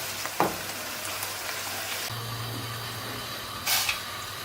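Onions frying in oil with a pinch of turmeric get stirred in a pan, a soft steady sizzle with a few scraping stirs of a spoon, close and fairly quiet.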